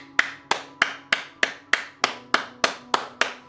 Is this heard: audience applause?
yes